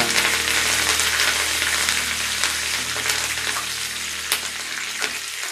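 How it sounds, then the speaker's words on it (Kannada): Finely chopped green chillies and curry leaves sizzle loudly in hot tempering oil, a dense continuous hiss close up with occasional sharper spits and crackles throughout, no talking. "ಈಗ ಇದರಲ್ಲಿ ಸಣ್ಣಗೆ ಹಚ್ಚಿರ್ತಕ್ಕಂಥ ಹಸಿ ಮೆಣಸಿನಕಾಯಿ, ಕರಿಬೇವಿನ ಸೊಪ್ಪು, ಇದನ್ನೆಲ್ಲ ಹಾಕಿ ಚೆಂದ ಮಿಕ್ಸ್ ಮಾಡುವ."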